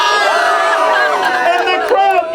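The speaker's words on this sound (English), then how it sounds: "And the crowd goes crazy!" A street magic show crowd, gathered for a cups-and-balls routine, cheers and shouts loudly and continuously, with many overlapping voices rising in a steady roar for a couple of seconds.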